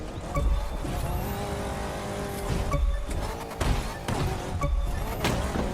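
A Hummer H1 Alpha driven off-road in the racing game The Crew 2, its engine droning and revving with shifting pitch while tires scrub and slip, loud and continuous over a low rumble.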